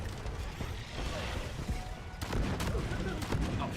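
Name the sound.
sticky grenades in Deep Rock Galactic video game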